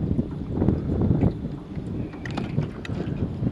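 Gusty wind buffeting a jon boat out on the water, a steady rough rumble of wind against the microphone with faint water movement and no talking.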